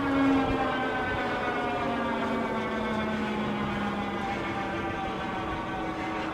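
A Euphree Stellar Falcon electric bike climbs a hill in turbo mode and gear 8, its motor giving a steady, loud whine. A falling tone sits over constant wind and road rumble for the whole stretch, with no talking.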